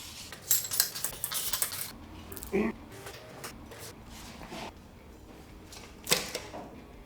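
A crossflow cylinder head is worked off a Ford Escort Mk2 1600 engine, giving close, intermittent metallic clanks and clinks of tools and metal parts, with a brief voice sound between them.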